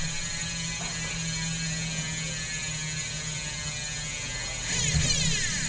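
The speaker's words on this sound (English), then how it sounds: "This is our new Hydra hub, and this hub has been assembled just using oil, so it's about as loud as it's going to get unless you run it bone dry." A Hydra bicycle rear hub assembled with oil only makes a fast, continuous buzzing ratchet of its freewheel pawls as it coasts, steady and close, rising slightly louder near the end.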